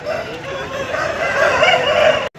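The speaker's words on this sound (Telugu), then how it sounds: "మీరు చూస్తున్న ఈ భీమవరం క్రాస్ పుంజు వచ్చేసి ఇది మన నాగరాజ్ అనేది" A Bhimavaram cross rooster at a poultry market gives a loud, close vocalization, a strained drawn-out call lasting about two seconds before cutting off abruptly.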